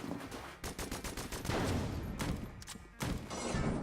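Rapid gunfire from the twin-stick shooter Enter the Gungeon crackles in quick bursts, with the shots clustered and overlapping in a loud, steady barrage. No voices are heard over it.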